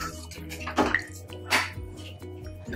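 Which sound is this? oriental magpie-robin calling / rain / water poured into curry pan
water poured into curry pan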